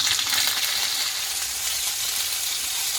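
Ginger paste frying in hot oil with whole cloves, cardamom and cumin seeds, giving a steady, close sizzle throughout.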